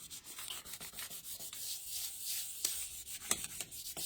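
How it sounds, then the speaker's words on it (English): Paper being burnished down onto a scrapbook layout, soft close rubbing strokes in a steady back-and-forth rhythm with a couple of sharper scrapes, quiet and without speech. "I'm gonna burnish it while I'm here, which just means that I'm just making sure that everything is down"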